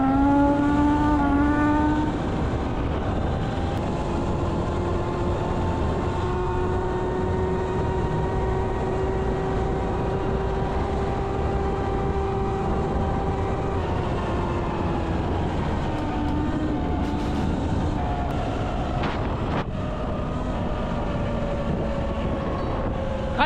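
A Tasaca T500-V58 mini moto runs flat out at top speed, its engine holding a loud, steady high-pitched drone with rising and falling harmonics and constant wind rush, close and continuous throughout.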